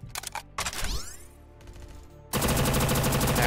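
A mech in Ancient Warfare 3 fires its guns at the player: short stuttering volleys, a sweeping whine, then a sustained rapid-fire burst, loud and close.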